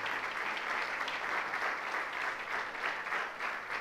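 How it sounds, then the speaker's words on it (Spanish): A church congregation claps together during a Spanish-language sermon, a steady even wash of many hands applauding in a large hall, moderately loud and sustained throughout without voices on top. "Alguien le da un aplauso al Señor."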